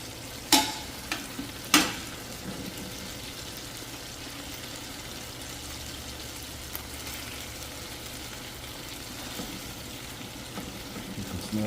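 Pork ribs dropped back into a pan of simmering red salsa, two sharp clattering knocks at the start, then a steady soft sizzle and bubbling that carries on alone.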